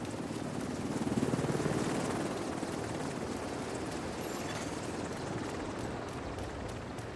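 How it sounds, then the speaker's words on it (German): A helicopter arrives at the extraction zone in a video game, its steady rotor roar filling the whole stretch at a moderate level with no speech over it. "Helikopter ist fast in der Bergungszone."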